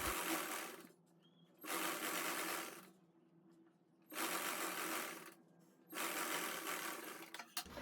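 A sewing machine runs in three or four loud bursts of stitching with short pauses between, stitching joined panels of a salwar close by with no talk.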